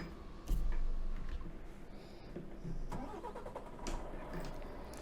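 A heavy truck engine cranks and fires up in Euro Truck Simulator 2 with a loud catch about half a second in, then settles into a lower, rumbling idle with slight surges.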